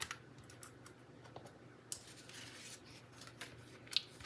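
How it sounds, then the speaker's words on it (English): Paper trimmed by hand with snips while making a butterfly card, giving quiet, scattered crisp snips and light rustles, some closer together and a few a little sharper. "I'm going to hand trim it with my snips"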